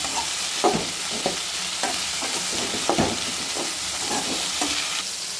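Pirandai (adamant creeper) fries in oil in a pan with a steady, close sizzle and a spatula clicking and scraping now and then as it is stirred.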